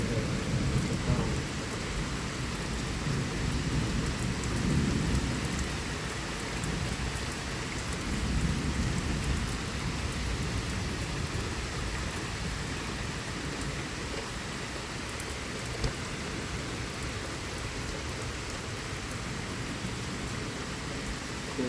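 A severe thunderstorm with damaging winds in southeastern Pennsylvania brings heavy, steady rain. Low rolling rumbles of thunder swell and fade beneath it throughout.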